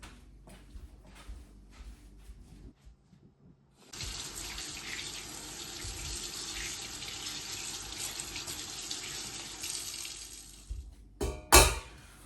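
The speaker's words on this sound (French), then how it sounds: "on va laver les courgettes" Courgettes being washed under a running kitchen tap, a steady broadband rush of water into a sink lasting several seconds, followed by a brief clatter and splash as the flow stops.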